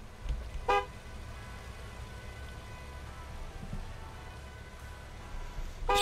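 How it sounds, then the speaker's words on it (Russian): Car horn honks in the Gas Station Simulator video game, one short toot near the start and another at the very end, moderately loud over a steady low ambient rumble. "Кто там сигналит, алё?"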